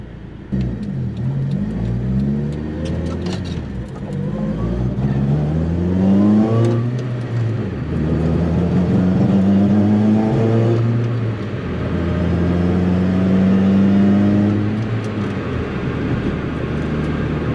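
A small, high-strung car engine, a motorcycle engine in a car with a 5-speed transmission, revs repeatedly, its pitch rising and falling through several pulls, loud and close with no talking.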